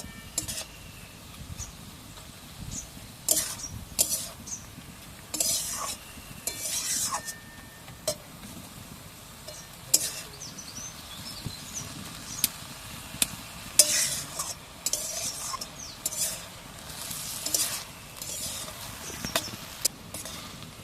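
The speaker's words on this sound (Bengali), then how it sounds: "আর একবার ভালো করে নাড়াচাড়া করে দেব" A spoon stirs soaked red lentils and water spinach frying in a pan, giving a steady soft sizzle broken by repeated metallic scrapes and clinks against the pan, close and without talk.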